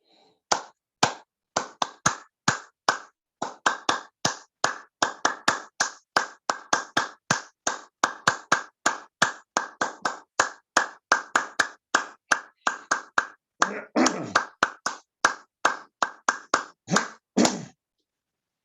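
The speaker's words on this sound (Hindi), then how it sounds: "तो पहले ताली वादन करेंगे अच्छी तरह से" Group hand clapping during a morning yoga session, a long steady run of about forty sharp claps in even rhythm, loud and close, with no talking.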